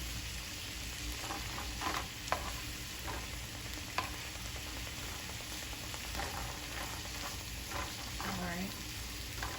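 Food sears in a hot pan with a steady, dense sizzle and crackle, broken by a couple of sharp utensil clinks and a brief spoken word.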